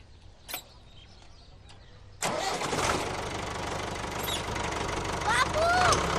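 A tractor engine on an organic farm cranks and catches about two seconds in, then settles into a loud, steady clattering idle close by, with voices heard around it.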